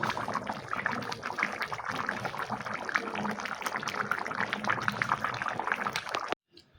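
Cooked mutton curry pours steadily from a pot in a home kitchen, a continuous wet sloshing and trickling that runs for several seconds at close range before cutting off abruptly.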